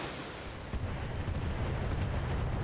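Missile salvos in the BattleTech video game rumble as a dense, continuous roar of booming launches and blasts, fairly quiet in the mix, with no talk over it.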